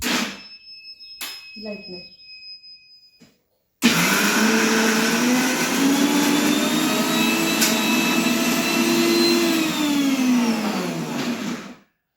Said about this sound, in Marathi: डाळी चांगल्या बारीक करून घेणार आहे मिक्सरमध्ये